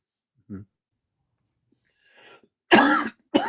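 A single short cough, then a brief pause and two louder, harsher coughs close to the microphone, with a faint breathy sound between them.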